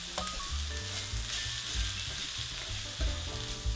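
Pepper flakes fry in a pan on low heat, a close, steady sizzle with soft scraping and stirring sounds mixed in throughout.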